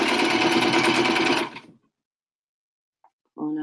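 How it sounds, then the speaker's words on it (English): A sewing machine stitches a seam in a loud, steady mechanical whir that runs for about a second and a half, then stops abruptly, followed by near silence before a brief hum returns at the end. "And now we're ready to sew our seam."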